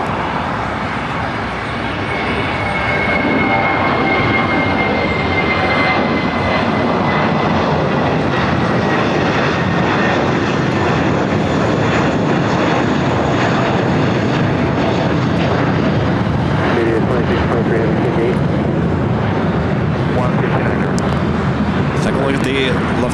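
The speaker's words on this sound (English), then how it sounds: "United Airlines flight 1170 heading to Honolulu, 777-200 now rolling down to 5 right" A United Airlines Boeing 777-200 bound for Honolulu rolls down the runway at LAX, its jet engines making a loud, steady roar that builds early and then holds for the whole stretch.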